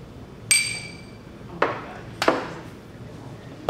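Beer glasses clink together in a toast during a brewery tasting at Nickelbrook, with three sharp, bright taps spaced about a second apart, fairly close and clear, and no talking over them.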